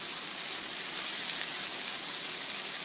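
Mini batbout flatbreads sizzle steadily in a hot pan, a loud, continuous bright hiss with no pauses or speech.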